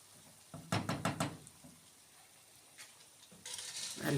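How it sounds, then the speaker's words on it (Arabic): Pasta frying in a pan with minced meat, stirred by hand so that a quick cluster of close knocks and scrapes sounds against a faint sizzle, then a louder sizzling rush near the end. "نقلب في المكرونة كده وما نسهاش عنها عشان ما تتحرقش مننا"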